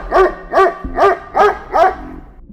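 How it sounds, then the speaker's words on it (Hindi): A dog barks five times in an even rhythm, each bark loud, close and separated by short pauses, with no other sound around it. "मुझे अचानक से एक कुत्ते के भौंकने की आवाज़ आई।"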